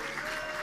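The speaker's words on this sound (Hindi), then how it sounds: "देखो इनका पूरा गैंग तालियां बजा रहा है" A crowd of college students claps together in a brief, dense burst of continuous applause in an indoor hall.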